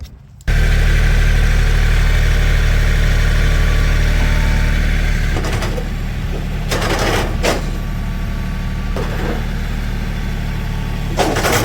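A tractor engine idles with a low, constant rumble, broken by a few brief louder bursts of noise near the end.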